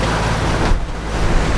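Ocean waves wash and surge against a sailing boat in tidal waters off Australia's remote north, a loud broadband rush with a brief swell of spray and wind buffeting the microphone, no speech.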